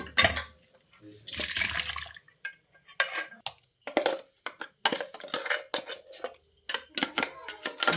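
Mixie-ground masala paste is scraped and poured into a pot of cooked mutton gravy, heard as close, wet plops and scraping bursts with sharp clinks of a utensil between short pauses.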